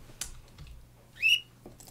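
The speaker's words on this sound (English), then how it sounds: "you heard that there's a whistle sound when there the player loses" Whistle sound effect from a Python 3D Pong game built with the Ursina engine, a single short rising tone near the middle that plays when the player loses, with faint clicks around it.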